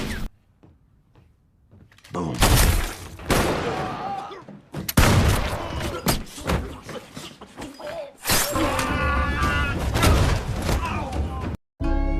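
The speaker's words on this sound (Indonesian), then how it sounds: "Adu mekanik baku tembak jarak dekat pun tak dapat dihindarkan." Close-range gunfire erupts in an action film shootout, with loud sharp bursts and clattering impacts coming in several dense clusters over mixed effects and music, before a brief silence near the end.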